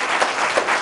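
Short burst of group clapping for a student in a classroom or training session, brisk overlapping claps fairly close and loud.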